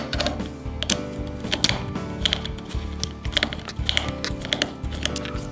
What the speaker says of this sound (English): what you'd initially do would be to take these two screws out here